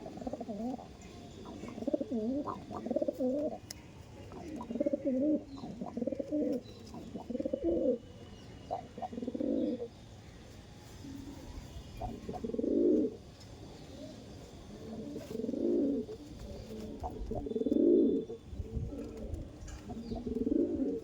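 Andhra breed pigeons coo repeatedly nearby in soft, throaty bursts, a steady series of low rolling calls with short pauses between them.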